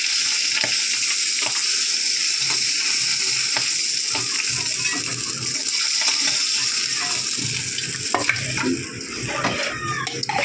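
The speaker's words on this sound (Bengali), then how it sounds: "এইভাবে সবগুলো ভেজে নেব" Tengra fish frying in hot oil, a steady close sizzle with crackling pops and occasional stirring clatter throughout, no talking.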